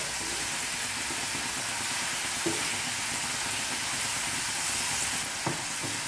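Half-cooked, frozen French fries bubble and sizzle in hot oil, a loud, close, steady hiss with occasional stirring clinks and no voices.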